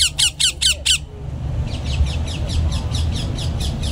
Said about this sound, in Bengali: টিয়া পাখির কিচিরমিচির শব্দে সবসময় মুখরিত থাকে এর চারপাশ